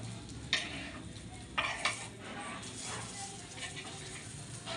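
Dosa frying on a pan hisses softly while a spoon scrapes and flips it, with a few sharp metallic scrapes standing out against a quiet sizzle. A voice can be heard faintly.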